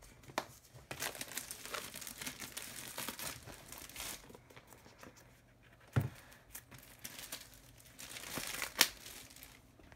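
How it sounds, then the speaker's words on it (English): Plastic wrap ripped off a DJI Spark drone box, close crinkling and tearing in bursts with short pauses and a couple of sharp snaps. "so now I'm going to rip off the plastic"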